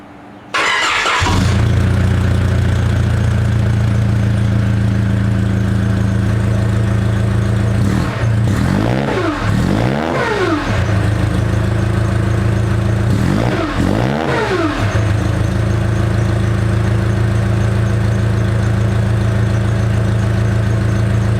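A supercharged Nissan Patrol with a ZD30 diesel cranks and fires, settles into a loud steady idle, then revs up sharply twice and drops back each time.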